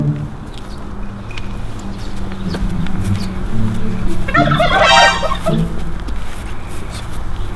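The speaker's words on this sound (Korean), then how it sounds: "공작과 칠면조들이 서식하고 있네요." Turkeys gobble at an ecology park of birds and fish in Pocheon, a loud rapid rattling gobble rising midway amid continuous outdoor bird noise and background hum, close by.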